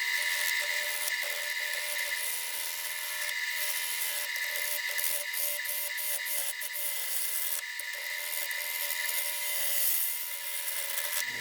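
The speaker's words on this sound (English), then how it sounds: "I'm gonna turn it a little bit slow with a chisel that's gonna need sharpening in a minute" Red oak on a wood lathe being turned slowly with a dulling chisel, giving a steady high-pitched scraping and hissing cut with brief flutters, sustained and close.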